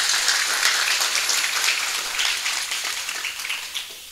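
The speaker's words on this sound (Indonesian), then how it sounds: "Tepuk tangan untuk DKC Garda Bangsa." A crowd applauding, dense clapping that holds steady and then gradually thins out toward the end.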